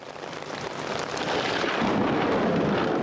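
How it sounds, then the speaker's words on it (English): Heavy rain pours during a thunderstorm outside a church at a memorial gathering for Congressman John Lewis, a loud dense roar that swells and rumbles steadily, with no voices. "Standing through rain and thundering storms to say goodbye to the man who shook up the world."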